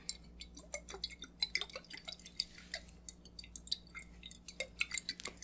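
Water is sipped from a glass up close in a quiet room, giving soft, irregular wet clicks, drips and faint glassy clinks over a low steady hum.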